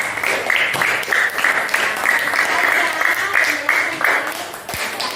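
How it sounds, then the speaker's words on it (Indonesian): Classmates in a classroom clap together for a group that has just presented, a steady, fairly loud round of applause sustained throughout with a few voices mixed in. "Coba dikasih teman dulu tepuk tangan"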